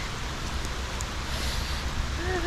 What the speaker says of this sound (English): there's a downpour.